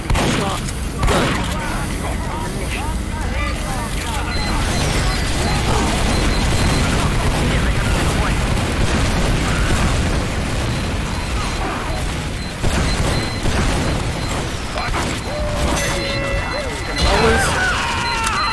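Team Fortress 2 combat with rocket launcher and shotgun fire: dense, continuous bursts of blasts, bangs and sharp shots overlap throughout, loud and chaotic, with other game noise mixed in.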